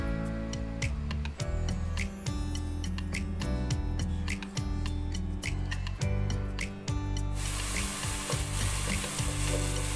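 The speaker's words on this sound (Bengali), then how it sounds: "এবার এই সমস্ত মশলাগুলো আমি খুব ভালো করে কষিয়ে নেব।" Spices with cumin powder frying in a pan for a beef tripe bhuna, a continuous sizzle overlaid with rapid clicking scrapes of a spatula stirring, loud and close, over a steady tonal hum.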